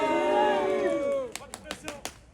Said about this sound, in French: On applaudit très très fort, s'il vous plaît.